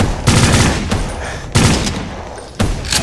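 Bursts of gunfire from a gun in the video game Brutal SIGIL, three loud, dense volleys cracking out in quick succession with brief gaps, close and dominant with no voices over them.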